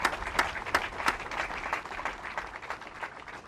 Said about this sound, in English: So please join me in a round of applause for this entire Vereen family that are here.